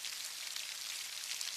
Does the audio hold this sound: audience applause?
no